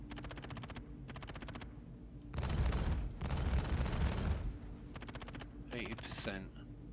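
Star Citizen ship weapons firing in repeated rapid bursts of rattling shots, with louder sustained barrages in the middle, set against a constant engine hum and a voice talking over it.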